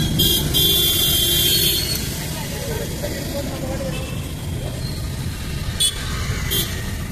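Dense road traffic on a busy flyover, a steady rumble of cars and buses with a couple of brief horn toots later on, while someone talks over it.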